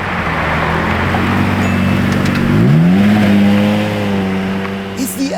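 A Lamborghini Murcielago LP650 V12 engine roars close and loud, holding a steady rev before climbing sharply in pitch and sustaining a high drone, with excited voices speaking over it.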